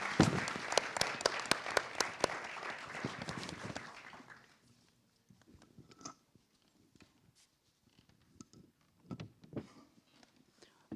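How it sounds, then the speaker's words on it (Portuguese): Warm clapping from a seated audience greets guitarist Robson Miguel at a 2017 talk on Black people in music. It starts full and lively, then thins out after about four seconds into a quiet room with a few scattered sounds. "Por favor, palmas para o Robson."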